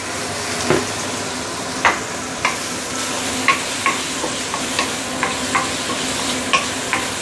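Roast pork stir-fried in a wok with dark soy sauce: a constant close sizzle of frying with regular scraping clicks of a spatula against the pan, and no talking.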